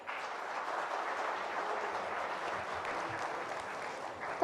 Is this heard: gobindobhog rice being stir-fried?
no